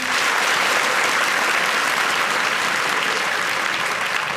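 An audience claps in a steady, dense burst of applause that stays loud and even throughout, with no voices on top.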